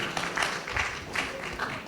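Audience applause at a Lucknow Urdu Academy kavi sammelan and mushaira poetry gathering, a brief burst of dense clapping mixed with voices.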